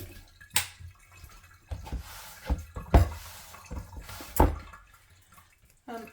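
Hands rinsed under a running kitchen tap, heard as a handful of short, irregular splashes and drips at close range over about six seconds, with quiet gaps between them.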